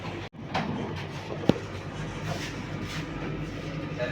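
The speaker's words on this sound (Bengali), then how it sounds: "এখানে আমাদের ট্রেন ওভারটেক করছে হাওড়া মুম্বাই CSMTS গীতাঞ্জলি সুপারফাস্ট এক্সপ্রেসকে।" From inside a Howrah–Ranchi Vande Bharat Express overtaking the Gitanjali Superfast Express, a steady rail rumble with rhythmic clatter, a brief dropout and a sharp knock partway through, no voices.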